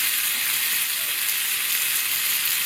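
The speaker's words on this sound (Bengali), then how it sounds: "সয়াবিন তেল একটু গরম হওয়ার পরে আপনি ঢেলে দিন সবকিছু, পেঁয়াজ সবকিছু আপনি দিয়ে এভাবে নাড়তে থাকুন।" Onions frying in hot soybean oil while being stirred, a dense, even hiss of sizzling that holds steady at close range throughout without a break.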